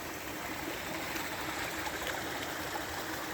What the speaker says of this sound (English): The river running under the bridge